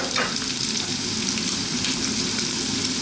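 Chopped onion and olives frying in olive oil in a pan, a dense, even sizzle with light stirring sounds, close and steady throughout, no voices.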